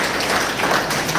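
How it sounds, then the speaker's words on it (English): A brief, loud burst of dense clapping from an audience at an induction program, close and continuous for just over a second. "A big round of applause to every one of you."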